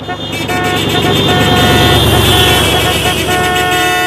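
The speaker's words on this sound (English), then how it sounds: "everyone was honking at us" Several car horns honk loudly and continuously around a car crawling along at a very slow pace, with overlapping sustained tones and traffic noise filling the whole stretch.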